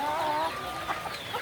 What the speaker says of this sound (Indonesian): kalau kita memberi makan ayam kampung kita